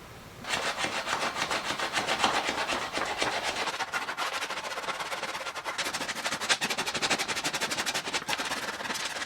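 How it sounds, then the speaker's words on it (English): Sanding on the cut edges of a steel off-road bumper for a Toyota Tacoma: a continuous, fairly close abrasive rasping with a rapid pulsing texture that runs steadily for about nine seconds. "Again, we're gonna sand all this off, so hopefully it looks better."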